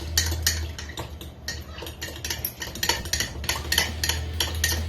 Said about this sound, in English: And you're just going to mix that up until everything is combined together.